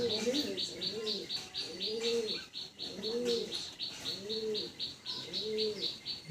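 Pigeons coo in a steady repeating rhythm of about one soft rolling call per second, close by, with faint chirps and a light hum behind them and no talking.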